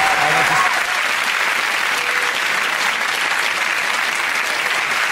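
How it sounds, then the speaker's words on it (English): A TV panel-show studio audience breaks into loud, sustained applause, a dense, even wash of clapping that holds for several seconds. "please join me in a round of applause for our people and their things"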